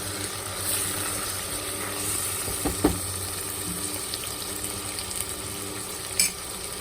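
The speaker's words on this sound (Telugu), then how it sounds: "ఓపెన్గా పెట్టి ఈ ప్రాన్స్ ఉడికించుకుంటున్నాం మనం చూడండి నీళ్ళన్నీ వెళ్ళిపోయి ఆయిల్ మాత్రం బయటకు వస్తుంది" Prawns cooking in oil in an open pan for a sour gongura (sorrel leaf) curry, giving a steady low sizzle and bubbling throughout, with a couple of brief utensil knocks near the middle and end and no talk.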